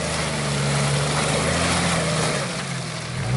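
A Jeep Cherokee XJ working off-road on a ramp, its engine droning loud and steady under sustained throttle, with a low rumbling hum that holds throughout and no voices.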